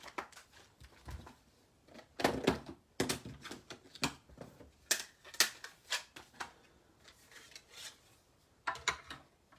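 Irregular bursts of scraping and grinding clicks from a small hand-cranked die cutting machine cutting paper for card making, close and moderately loud, with pauses between passes.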